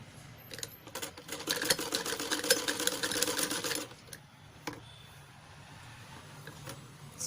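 A sewing machine stitches a blouse cap sleeve in a quick, steady run of needle clatter lasting a few seconds, then stops, leaving quiet handling sounds and a couple of soft clicks.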